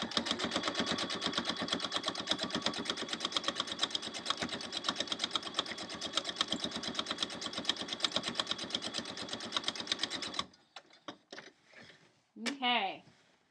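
Sewing machine running a locking stitch on a quilt block, a fast steady mechanical whir for about ten seconds, then stopping, followed by a few clicks and a brief voice.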